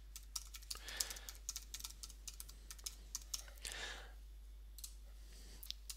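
A computer keyboard is tapped in quick, uneven bursts as a password is typed, sharp close clicks over a quiet background hum with a couple of brief soft breaths.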